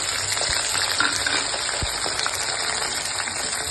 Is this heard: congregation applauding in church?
no